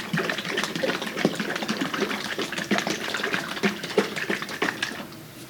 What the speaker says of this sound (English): I'm going to shake it to make sure it's stirred up really well